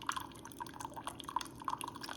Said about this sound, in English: It's splashing kind of all over the place.